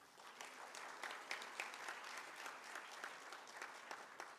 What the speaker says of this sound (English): Can I have a huge round of applause for Mr. Brian?